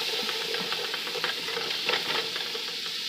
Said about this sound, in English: we're just going to saute this over medium-high heat